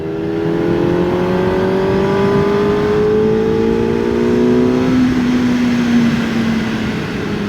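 A QJ Motor SRK 421 RR four-cylinder motorcycle engine revs loud and close, its howling tone sweeping steadily through the gears with a continuous rising and falling whine and no talk over it.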